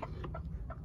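A brooding hen gives a few soft, short clucks close by, over a low steady background hum.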